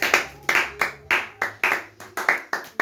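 A church congregation claps together during a Sunday service, about ten sharp, fairly loud claps in a steady rhythm, bunched into roughly evenly spaced bursts, with no talk over them.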